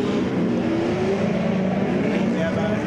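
A five-car tandem drift at a racing event, a BMW 3 Series leading with a Nissan behind, gives off a loud, continuous engine roar with steady revving tones from several cars at once.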